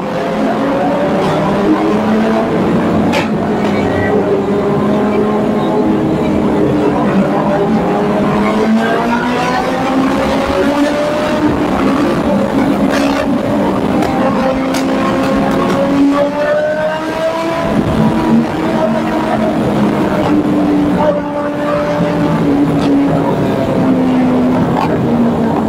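A stock carbon-fibre motorbike speeding along an empty road, its engine note rising and falling steadily and loud throughout, with wind rush and no talking.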